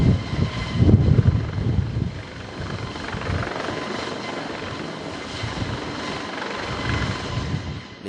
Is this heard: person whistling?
no